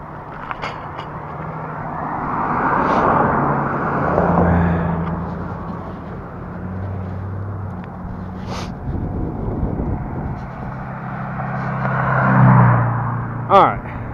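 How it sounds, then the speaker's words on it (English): Road traffic passes on a street about a mile from home, broad whooshing swells of vehicles rising and fading, with wind buffeting the microphone and a few sharp knocks near the end. "Alright, lots of traffic."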